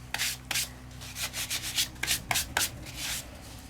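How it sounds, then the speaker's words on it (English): Quick rhythmic strokes of sandpaper rubbing across embossed cardstock to raise the 3D embossed detail, a dozen or so short scratchy passes, close and fairly quiet. "maybe sometimes you want to sand it to bring that detail up"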